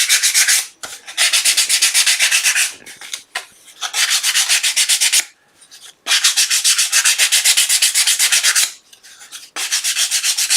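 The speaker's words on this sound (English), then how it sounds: "Here's my little piece of sandpaper that I had. There it is. Sand off the edges." Sandpaper worked by hand along the edges of a small wooden box, giving loud, steady back-and-forth rasping strokes in long bursts separated by short pauses, with no talking.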